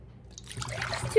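Cold milk pours from a jug into a measuring container for banana pudding parfaits, a short close trickle and splash that starts after a brief quiet moment.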